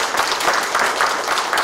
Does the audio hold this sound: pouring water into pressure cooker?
no